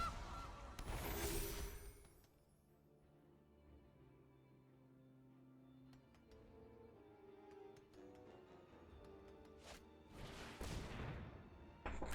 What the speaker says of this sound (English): They get a Goose.